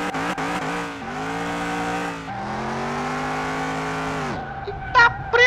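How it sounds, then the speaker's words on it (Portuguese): A lowered Opala with a high-torque engine in Car Mechanic Simulator 2021 slides out at the rear, its engine droning loud and steady through long sustained revs with shifting pitch, then cutting off into brief short bursts at the end. "Mano, tá saindo de traseira demais. Tá com torque, viu, velho?"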